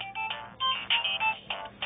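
A phone ringtone plays in short bursts of bright melodic tones, loud and close, with brief gaps between phrases and no talk over it.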